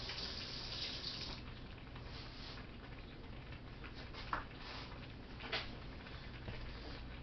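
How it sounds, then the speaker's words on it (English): Water running from a tap in a home kitchen while butter lemon garlic sauce is being made, a steady close splashing hiss with a couple of brief clinks partway through and no talking. "Rinse that off real quick."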